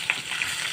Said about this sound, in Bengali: ভালো করে লাল করে আমি মাছটাকে ভেজে নেব